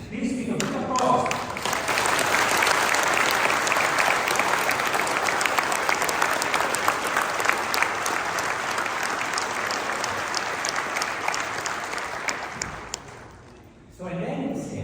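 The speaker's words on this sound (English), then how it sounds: "ask the audience to give a big applause" A conference audience breaks into big, sustained applause lasting around twelve seconds, dense and close, fading out at the end, with brief talk just before and after.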